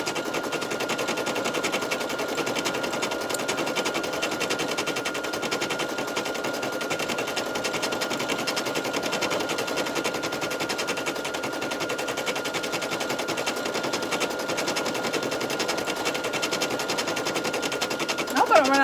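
A home sewing machine runs steadily at speed, a rapid continuous mechanical chatter that stays even and close throughout, with soft talk faintly underneath.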